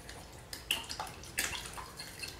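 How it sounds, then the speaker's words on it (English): A spoon stirs buttermilk and water together in a bowl for whole wheat Irish brown bread, giving light, irregular sloshes and soft clinks that stay fairly faint and close, with no talking. "I'm gonna stir that up."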